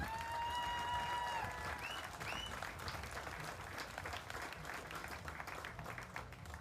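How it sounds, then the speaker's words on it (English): Audience at an FFA state fair event applauding steadily, a dense sustained wash of clapping from a large crowd, with a few cheers and whistles rising over it at the start. "Let's give Randolph a round of applause."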